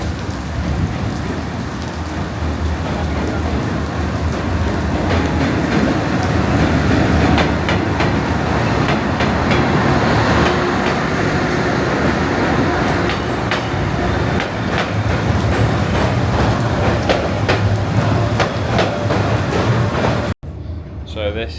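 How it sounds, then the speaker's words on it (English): A train arriving at a station in Vietnam, a steady loud rumble of rolling wheels and rail noise lasting about twenty seconds before cutting off abruptly, with some voices underneath. "Comes the train."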